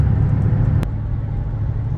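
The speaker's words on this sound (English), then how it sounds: "You can hear that supercharger big time." A supercharged car engine running steadily nearby, a dense low rumble with a faint whine, broken by one sharp click partway through.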